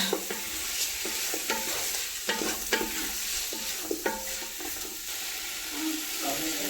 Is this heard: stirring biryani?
yes